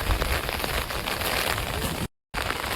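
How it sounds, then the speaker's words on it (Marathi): Heavy rain pours steadily outdoors around a village temple in Devgad, a dense continuous hiss broken by one short gap of silence. "तर आज भरपूर पाऊस लागता असा"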